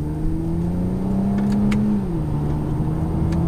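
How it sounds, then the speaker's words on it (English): A 2020 Toyota Camry TRD with a cat-back exhaust gives a steady, moderate engine drone while accelerating, rising slightly and then dipping as it shifts. The sound is close and continuous, with no talking. "You can hear a little bit from that cat-back TRD exhaust."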